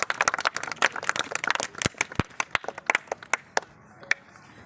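Scattered clapping from a small crowd at an Independence Day honoring ceremony in Jammu, sharp individual claps at first fairly dense, then thinning to sparse isolated hand claps toward the end.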